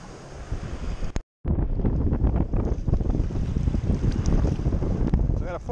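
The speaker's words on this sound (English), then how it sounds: "Damn, the waves are picking up." Wind roars across the microphone on a boat out on a bay as waves pick up under threatening weather, a constant close rush with a brief dropout near the start.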